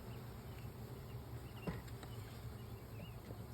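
Honeybees hum in a steady low drone while a hive is opened for inspection in a garden, with the buzzing close and continuous and a soft tap or two rising briefly above it.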